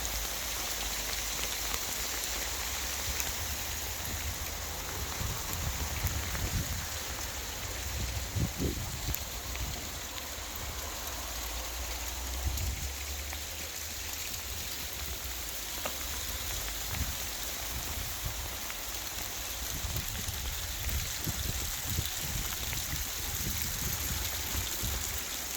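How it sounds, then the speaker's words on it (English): Rain mixed with sleet pelting down over a vegetable garden, a steady dense hiss of drops across the surface with scattered louder patters, continuous throughout. "it's hailstoning. Like a sleety hailstone and rain."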